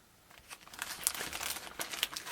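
A plastic bag holding two pre-cut 1/35 scale tarps crinkles close and softly in a short run of crisp, irregular rustles.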